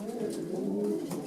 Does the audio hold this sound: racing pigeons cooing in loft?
yes